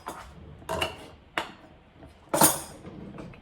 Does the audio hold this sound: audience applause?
no